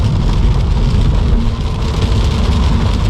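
Heavy rain pours during a drive in a 2022 Subaru BRZ in Florida, a loud, steady wash of rain on the car mixed with road and engine rumble, with no one talking.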